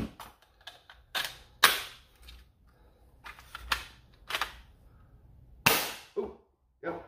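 A Siren Blasters Gnarl Blaster toy dart blaster is primed and fired, with sharp plastic clacks and snaps scattered among quieter handling clicks, close and fairly faint.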